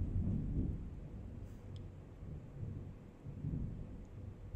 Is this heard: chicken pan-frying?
no